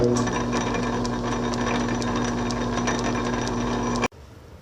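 South Bend 13-inch lathe spindle spinning slightly too tight, a steady close whirring hum with faint rhythmic ticking that cuts off abruptly near the end.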